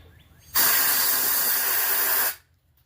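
Compressed air blasts steadily into the carburetor of a Poulan 12538 38-inch riding mower, a loud continuous hiss that starts abruptly, holds for nearly two seconds, then cuts off, with faint background noise before and after.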